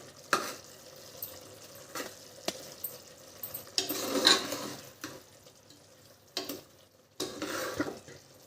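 Egg curry masala being stirred in a pan over medium flame, with intermittent scraping and clinking strokes over a low, soft cooking sizzle.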